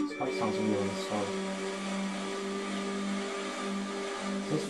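A car engine in the racing video game The Crew 2 hums quietly and steadily in a showroom menu, a low smooth drone with faint revving at the start.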